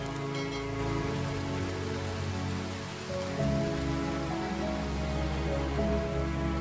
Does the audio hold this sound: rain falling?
yes